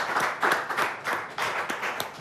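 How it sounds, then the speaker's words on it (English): A small audience claps for a young special effects artist after a makeup transformation, the applause uneven and moderately close, with individual hand claps standing out in an irregular rhythm. "let's clap for him because this is something else"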